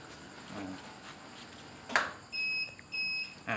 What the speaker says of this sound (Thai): มีเสียงตี๊ๆแสดงเครื่องพร้อมใช้งาน